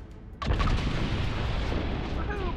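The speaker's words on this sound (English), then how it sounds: "big explosion." Deep Roads explosion in Dragon Age bursts suddenly with a heavy boom, then rumbles on and fades over the next two seconds as game effects continue.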